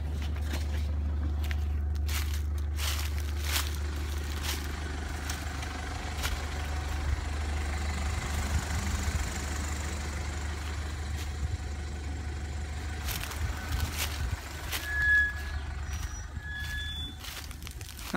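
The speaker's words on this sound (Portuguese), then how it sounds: "tem um trator aqui" On a farm, a tractor engine idles with a steady, low rumbling hum that carries on unbroken for the whole stretch, with occasional faint clicks and scrapes and a brief high chirp near the end, and no talking.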